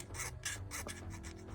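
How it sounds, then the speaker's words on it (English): A fine file smoothing the edges of a jewelry piece gives several quick scratchy rasping strokes in a rapid rhythm, close and moderately quiet, with no talking. "The teeth point forward on the fine file, and I use it to get into tight spots"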